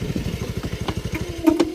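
A motorcycle on a road trip to Tagaytay idles close by with a steady, rapid low chugging pulse, joined by a brief clatter and a short higher tone near the end.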